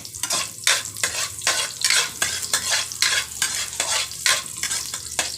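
Garlic and onion sauté in a hot pan for a Filipino binukid-style bami, with steady sizzling broken by repeated scraping stirs in a quick, uneven rhythm, close and moderately loud, with no talking.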